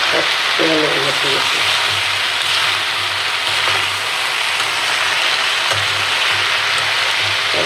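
Fish sizzles and fries steadily in spice masala in a pan, a continuous close crackling hiss with brief utensil clatter near the start.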